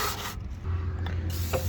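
Brush scrubbing a seed meter part on an 8-row John Deere 1700 Max Emerge Plus planter, short close rasping strokes in quick bursts.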